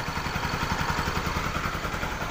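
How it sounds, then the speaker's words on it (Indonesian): A Bajaj Pulsar 200NS motorcycle engine idles steadily close by, with an even, rapid chugging pulse and no revving. "Ini mesin sudah menyala."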